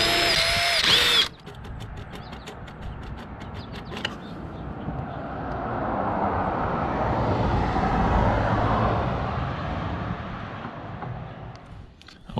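A power tool whirs in short bursts and a longer steady run while removing case cover bolts from a wrecked Suzuki GSXR 600 motorcycle engine, fairly quiet and close, with a brief voice at the start.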